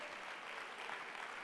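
An audience at a sports gala in Ceuta applauds steadily, a dense, even wash of clapping hands that holds at the same level throughout with no voices over it.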